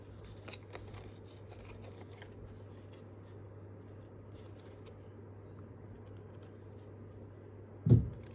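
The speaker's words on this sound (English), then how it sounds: "I'm just going to cut a straight edge to release the die from the paper." Scissors snip along a straight edge of paper to free a die cut for a junk-journal envelope: a run of quick, faint crisp snips near the start, then a low steady hum and one louder knock at the end.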